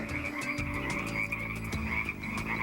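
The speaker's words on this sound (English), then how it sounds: "The red-legged frog is the largest native frog west of the Rockies." A continuous chorus of red-legged frog croaks, the largest native frog west of the Rockies, throbs close by in dense overlapping pulses, with no speech.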